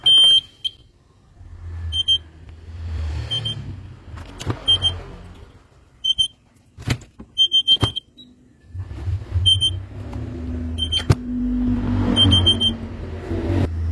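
A homemade motion-sensor buzzer beeps again and again in short, high, clustered bursts with irregular gaps, close and clear over a low rumbling background and handling noise.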